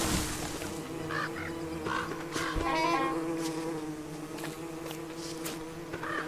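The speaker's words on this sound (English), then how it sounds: "I have no quarrel with you, bee. Please don't attack me." A bee buzzing in the survival video game Don't Starve: a faint, wavering insect drone mixed with other soft game tones and chirps, with no talk.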